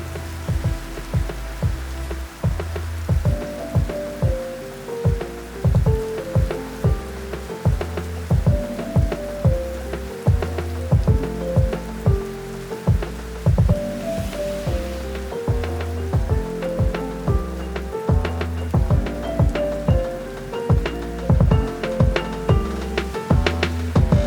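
Rain pattering steadily against a window, close and continuous, mixed with rhythmic tones running throughout.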